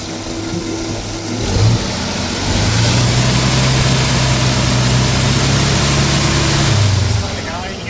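A 1965 Ford F100 pickup with dual exhaust idles steadily with a low, even rumble and a brief blip of revs, close by, while people talk over it.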